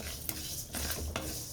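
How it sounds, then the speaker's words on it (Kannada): Coriander seeds, cumin, fenugreek and peppercorns dry-roast in a pan for a sweet pumpkin sambar, with several scraping stirs of a spoon against the metal over a faint crackle, close and unaccompanied by talk. "2 ಸ್ಪೂನ್ ಧನಿಯಾ, 1 ಸ್ಪೂನ್ ಜೀರಿಗೆ, 1/4 ಸ್ಪೂನ್ ಮೆಂತ್ಯ, ಕಾಳು ಮೆಣಸು ಒಂದು 5 ಚೆನ್ನಾಗಿ ಹುರ್ಕೊಂಬಿಡೋಣ ಘಮ ಬರೋ ಗಂಟ"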